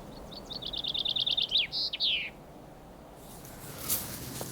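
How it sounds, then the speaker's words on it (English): Birds chirping at the Eden Project site: a rapid run of bright, evenly spaced chirps and a few short calls for about two seconds, then only a steady, faint outdoor hiss. "Have you noticed all the flocks of birds that's been coming out?"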